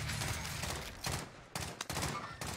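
Dense, continuous bursts of automatic gunfire in the Caldera battle royale shooter, loud and close, with rapid overlapping shots and a few short breaks in the volley.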